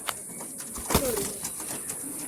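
Kolkata Teddy pigeons in a loft giving soft cooing calls over a steady background hiss, with a sharp tap near the middle and faint chirps.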